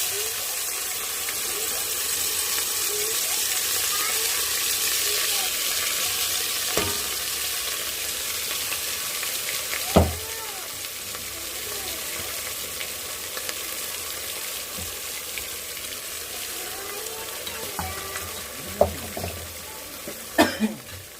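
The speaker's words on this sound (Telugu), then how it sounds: "ఈ టమాటా జ్యూస్ని కూడా బాగా ఫ్రై చేసుకోవాలి" Tomato and onion juice frying in hot oil, a steady, even sizzling hiss that runs throughout, with a few faint knocks scattered over it.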